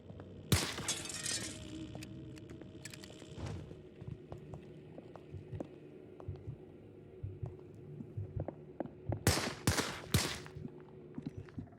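Glass shatters in the video game Hell is Others, with sharp bright crashes near the start and a cluster of breaking bursts toward the end, over a quiet in-game background.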